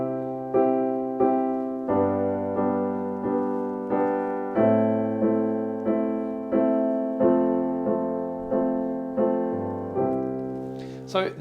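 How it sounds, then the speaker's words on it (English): Piano chords in a pop progression repeat in a steady pulse of four beats each, a held left-hand bass note under the right-hand triads as the progression shifts every few bars. "So let's now add some rhythm, and I'm just going to play and hold the left hand"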